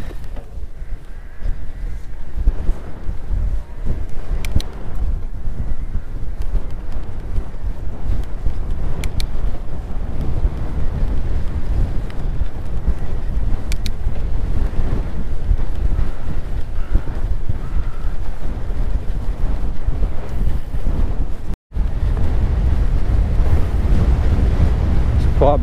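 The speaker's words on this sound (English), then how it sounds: "Blowy around this section, I'm sure I'll be able to pick it up on the GoPro." Strong wind buffets the camera microphone of a mountain biker on a blowy, boggy upland section near Darley Bridge, a loud continuous low roar with gusting rumble and a brief dropout near the end, no talking.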